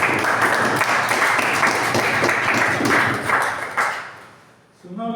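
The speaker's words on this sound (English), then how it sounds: "Let's give her a round of applause." Steady round of applause from a Toastmasters meeting audience, dense clapping that holds strong for several seconds before fading out, with a faint voice starting at the end.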